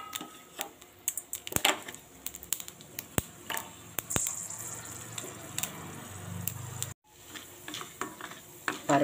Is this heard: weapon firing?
no